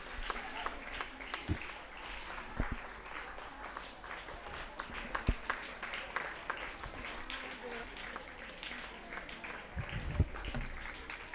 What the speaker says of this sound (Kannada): ಜೋರಾದ ಚಪ್ಪಾಳೆ ಮೂಲಕ